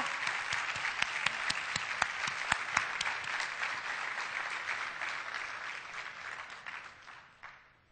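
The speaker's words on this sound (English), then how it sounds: "How about a big round of applause for the 2008 Hall of Fame inductees, Juan, Maggie, Francisco." An audience at a 2008 journalism Hall of Fame induction ceremony gives a steady round of applause for the inductees, with sharp individual claps over a dense patter that gradually thins and fades out, and no talking.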